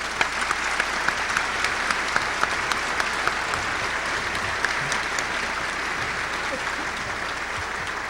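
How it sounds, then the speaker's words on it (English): Audience applause at a club dinner, a sustained, dense burst of clapping from a large crowd that holds steady throughout with no talk over it. "Now it's time for a round of applause."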